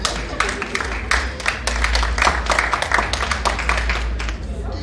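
Spread-out clapping from an audience at a 15th-anniversary show, mixed with crowd voices and steady background noise, keeps going throughout.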